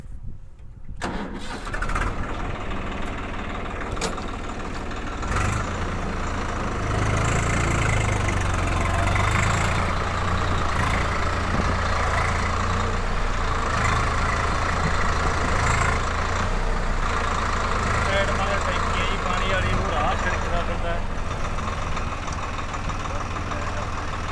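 A John Deere tractor engine runs steadily close by for the whole stretch, a continuous mid-pitched rumble that builds after starting up, with faint voices now and then.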